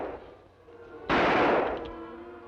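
Gunshot in an old Western radio drama, a single sharp loud crack with a short rolling echo breaking out after a quiet moment, decaying over about a second.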